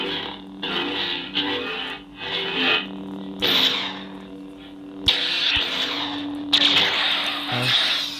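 Custom Hearts of Kyber 'Kota' lightsaber producing aggressive swing effects, a steady electronic hum with several loud whooshing swells and bursts rising over it, alone and fairly close.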